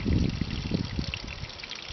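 Water drains from opened tanks on an off-grid RV, a close, continuous gurgling trickle that is strongest at first and eases slightly, with no talk.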